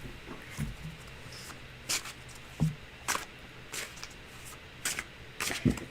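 A deck of tarot cards being shuffled, with a string of soft papery riffles and taps spread unevenly across several seconds, close by and with no talking.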